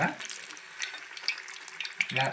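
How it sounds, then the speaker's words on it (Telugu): Ajwain leaf bajji frying in hot oil, a steady close sizzle with crackling pops throughout, briefly joined by a light clatter near the end. "వేయించుకుందాం."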